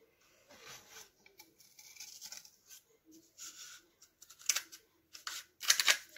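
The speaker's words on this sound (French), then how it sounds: "je vais prendre des ciseaux et c'est parti. Je vais essayer de couper assez droit quand même." Scissors snipping through cardboard toilet paper rolls in irregular close bursts of crisp cuts, growing louder toward the end, with no talking.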